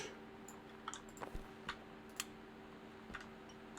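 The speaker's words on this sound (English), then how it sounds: "Another typewriter." A typewriter in Gone Home clacks in scattered, uneven keystrokes, faint and close, over a low steady hum with no talking.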